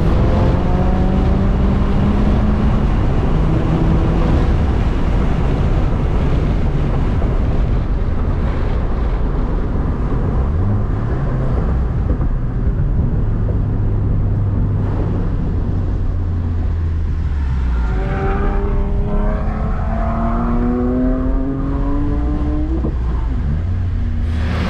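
Subaru WRX on a race track during an SCCA time trial at La Junta Raceway, its engine note rising and falling through gear changes amid steady road and wind roar, loud and continuous with no talk.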